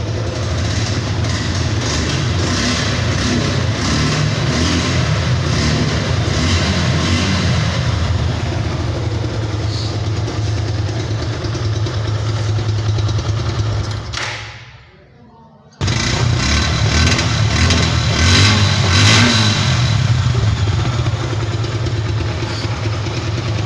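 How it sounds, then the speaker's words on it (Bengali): A used motorcycle with about 6,412 km on it runs at a Bogura bike market, its engine a loud, steady idling drone close by. It cuts out abruptly partway through, then restarts and keeps running with slight revs. "চলুন এবার আমরা বাইকের সাউন্ড কোয়ালিটিটা একটু দেখে আসি"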